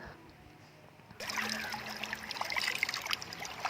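A clear village stream in rural Kerala flows with steady trickling and gurgling water, close and continuous, rising in intensity after a quieter opening.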